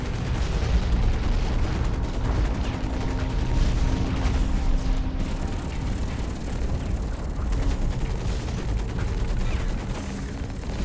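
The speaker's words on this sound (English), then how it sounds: "He's trying to shoot down the ship" Dense, continuous gunfire and booming blasts from mech combat in the game Hawken as shots are aimed at a ship, a loud unbroken barrage of shots and explosions with no pauses.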